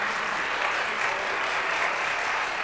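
Steady audience applause for panelists at an educational equity community forum, a dense, even wash of many hands clapping that holds without break, close and fairly loud.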